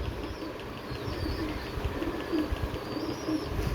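A breeding pair of Kalsira Kaldumba pigeons gives faint, low cooing now and then, close but quiet against a constant airy hum.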